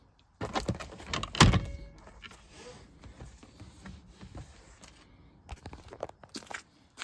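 The door of a 1988 Mercedes-Benz 560 SL shuts with one heavy, solid thud close by, followed by quieter rustling and faint handling noises.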